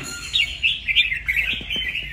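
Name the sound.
songbird chirping in a cage, bird for sale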